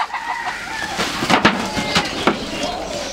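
Sonali chickens at a poultry farm cluck and a rooster crows nearby in several short, loud bursts while the birds are being fed.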